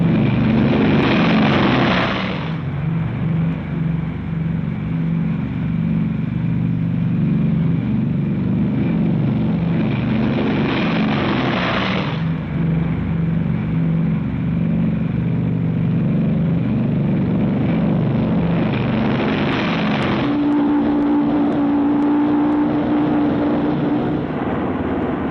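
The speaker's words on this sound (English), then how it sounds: "B-29 takeoffs are a tough sweat." Four-engine B-29 bombers taking off one after another, with a steady heavy propeller drone broken by repeated surges as each plane passes.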